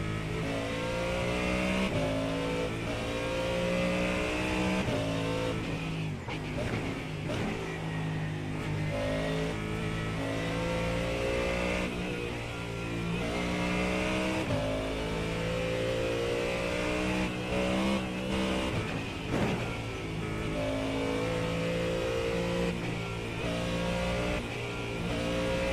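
A race car engine revs hard on the track at Talladega, a loud, continuous high-pitched drone with rising and falling pitch sweeps as it accelerates and shifts, holding steady for the whole stretch with no talking.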